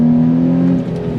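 A Nissan 350Z engine under hard throttle, a steady droning rev held close and loud for a moment before easing slightly, with no voices.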